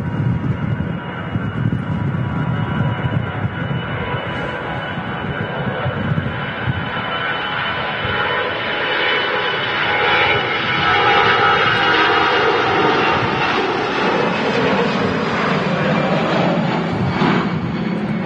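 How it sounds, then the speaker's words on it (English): A Lufthansa Airbus A319 takes off from Manchester Airport bound for Frankfurt, its jet engines a loud broad roar that holds steady and slowly swells, with no voices over it. "There goes the Lufthansa A319 heading off to Frankfurt this morning"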